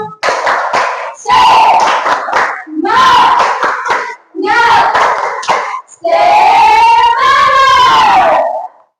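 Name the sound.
group repeating the 'tepuk semangat' clapping chant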